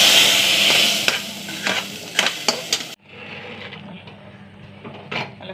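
Onions frying in a curry in a pan, giving a close, steady sizzle with a few sharp stirring scrapes; the hiss drops abruptly midway and continues more quietly.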